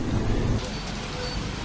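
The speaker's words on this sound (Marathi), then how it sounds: "पाऊस चालू झालाय." Rain pours down in a dense, continuous hiss, loud and close, with no voices.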